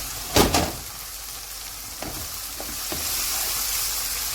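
Onions and tomatoes cook in a covered pan, giving a steady soft sizzle with a couple of sharp clatters near the start, likely the lid going on, and a few faint clicks afterward.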